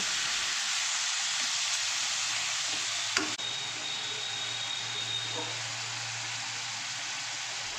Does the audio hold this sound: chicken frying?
yes